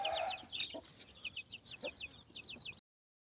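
Several chickens offered as young birds for sale cluck and chatter in a quick series of short calls, close and moderately loud, with no speech.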